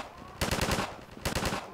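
Gunfire in the video game Half-Life 2 comes in two short rapid bursts of automatic shots, fairly close and loud, separated by a brief pause.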